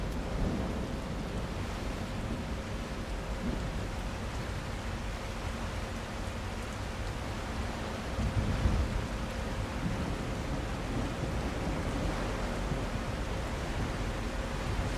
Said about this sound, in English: Comes the storm.